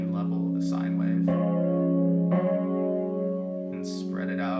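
A synthesizer sine-wave tone, pushed bassier and more muted, sustains as a steady low hum with layered harmonics and slight chorus-like shimmer, punctuated by brief brighter attacks.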